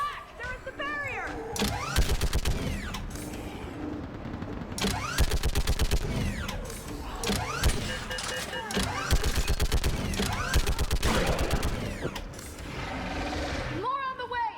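Heavy gunfire in the video game Mass Effect 3, dense rapid bursts and automatic fire nearly nonstop under music and shouting voices, loud and close throughout.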